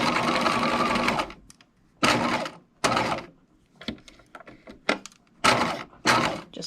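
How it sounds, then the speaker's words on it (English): A sewing machine basting lace loops into the seam allowance of a gothic lace face mask runs in several short stitching bursts of varying length separated by quiet pauses, close and clear with no talk. "you can now baste these in place if you like"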